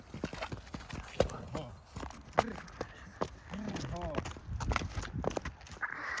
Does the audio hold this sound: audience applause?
no